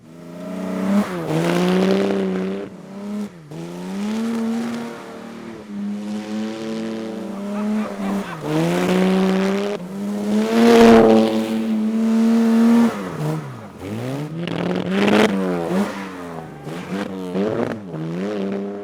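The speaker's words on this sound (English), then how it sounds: "this is how an E-Type should be driven" A Jaguar E-Type sports car is driven hard. The engine revs climb and drop again and again as it runs through the gears, loud and close, with brief lifts between pulls.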